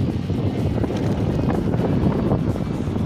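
Steady wind rushes across the microphone while cycling along a highway toward Três Fronteiras in the morning, a loud continuous low roar without pause or talk.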